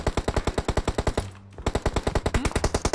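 Rapid automatic gunfire in the mobile battle royale game PUBG Mobile, evenly spaced sharp shots in a fast rhythm with a short pause in the middle, loud and close with no talk over it.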